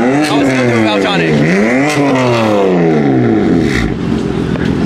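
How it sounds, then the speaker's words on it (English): A BMW F80 M3 with a titanium exhaust revs repeatedly at a car show, the engine pitch sweeping up and falling back several times, loud and close. "Swear that was the best exhaust for an F80"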